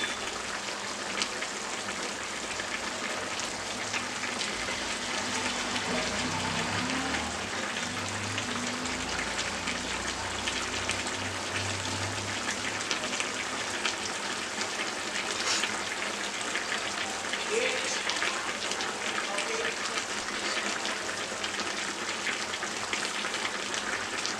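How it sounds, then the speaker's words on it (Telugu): Chicken curry bubbles steadily in a pan as its water cooks out, giving a continuous soft hiss and popping that stays even and moderately quiet throughout, with no talk. "బబుల్ సౌండ్ వినిపిస్తుంది కదండి అంటే అందులో వాటర్ అంతా కూడా బయటకు వస్తుంది"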